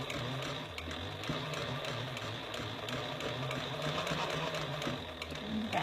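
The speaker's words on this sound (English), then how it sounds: "we're just going to sew right over where we started before." A sewing machine stitches a bag in the round with a quiet, rapid mechanical chatter and rhythmic ticking, running continuously at close range with soft speech-like murmurs mixed in.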